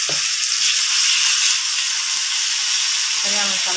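Onions and green masala fry in a pan with a loud, close, continuous hiss of sizzling oil, and a brief voice cuts in near the end.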